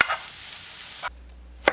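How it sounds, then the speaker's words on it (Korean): Small pieces of carrot stir-fry with fine salt in a little cooking oil over medium heat, giving a soft, hissing sizzle for about a second before it cuts off, then a brief scrape. "당근 넣고 중불로 1분 볶다가 고운 소금 조금 넣고 1분 더 볶습니다"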